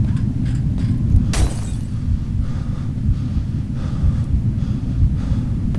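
Heavy, rasping breaths from the video game F.E.A.R. 2 rise and fall in uneven gasps over a dense, rumbling background drone.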